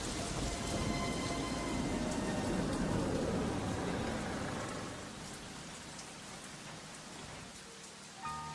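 Steady, heavy rain pours down, dense and continuous, with a low rumble of thunder underneath that gradually eases.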